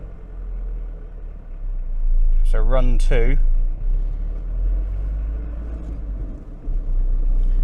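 An 80s Citroen BX TZD turbo diesel car runs on a dyno, its engine droning as a loud, steady low rumble that swells through the clip, with someone speaking briefly over it.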